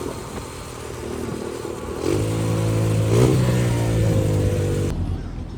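A 125cc dirt bike engine revs up and holds at high revs, a loud, close, buzzing rise with clattering, then cuts off abruptly near the end.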